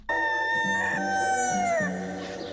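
A rooster crows once in a long, loud, drawn-out call that trails off at the end, close by with no other sounds.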